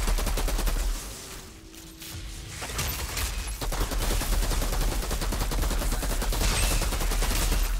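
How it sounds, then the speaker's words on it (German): Rapid automatic gunfire in the shooter game Outriders, loud dense bursts with a short lull before the shooting resumes and continues steadily to the end. "Aber schieß ich auch mal."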